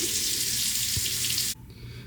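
Water from a kitchen tap running steadily into a measuring cup for a sourdough starter, a loud close hiss that stops abruptly near the end, leaving a faint trickle.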